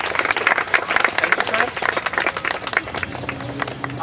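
Applause from the audience at a sports committee function in Gwalior, a dense wash of clapping heard steadily throughout, loud and close, with voices mixed in underneath.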